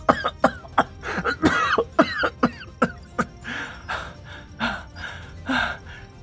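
A man coughs repeatedly in sharp, uneven bursts, then draws several heavy, audible gasping breaths as he recovers, close and clear with no speech.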